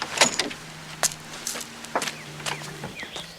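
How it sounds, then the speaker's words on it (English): A police car door handled and opened, with a series of sharp mechanical clicks, clunks and latch sounds spaced across a few seconds, close and moderately loud, with a low hum underneath and no speech. "he still doesn't know how to open this door"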